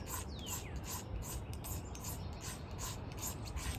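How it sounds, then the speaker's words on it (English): A blade scrapes shavings off a magnesium block for fire starting outdoors, giving quick, rhythmic rasping strokes, faint and evenly spaced, repeated about a dozen times. "you're gonna scrape shavings of this magnesium"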